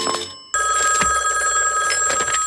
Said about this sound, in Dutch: Het is een telefoon waar je geld in moet stoppen.